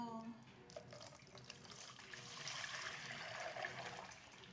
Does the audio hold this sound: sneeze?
no